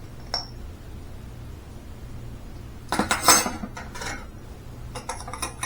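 Potato bread dough with yeast is mixed in a bowl, heard as scattered clinks and scrapes of a utensil against the dish, with a quick burst of clattering stirs mid-way and softer knocks after, over quiet background.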